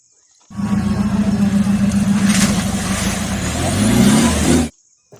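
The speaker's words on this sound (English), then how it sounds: "Wow, this is a Mahindra Jeep." A toy Mahindra Jeep gives a loud, steady engine-like roar with a low rumbling hum, holding for about four seconds and rising slightly before it cuts off abruptly.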